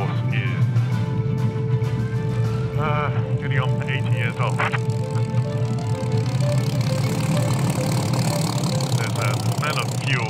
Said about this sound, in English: reassuring patter at the moment in the Rolls-Royce Merlin engine